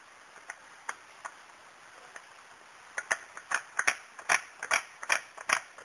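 Ratcheting clicks as an oil filter is spun by hand onto a motor's threads, sparse single ticks at first, then a quicker run of sharper, louder clicks, close and with no voices.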